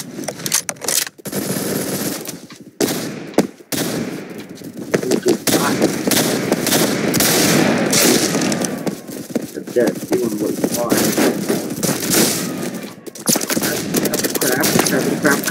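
Rapid gunfire from the Roblox shooter Phantom Forces crackles in dense bursts throughout, close and loud, with a player's voice talking over the shooting.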